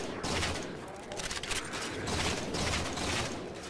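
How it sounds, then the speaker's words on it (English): Rapid gunfire and mechanical weapon noise from the shooter game Halo 4, a dense continuous barrage of shots with sniper fire in the mix, loud and sustained throughout. "Whoa, sniper!"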